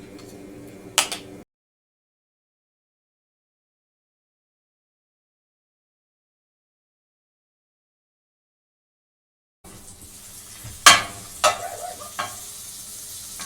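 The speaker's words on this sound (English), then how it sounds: "put them into the skillet with the 1/4 of a stick of butter" Corn kernels sizzle in a quarter stick of butter in a skillet, a soft frying hiss with a few sharp clinks of utensil on pan at the start and end, separated by a long silent gap, with no talk.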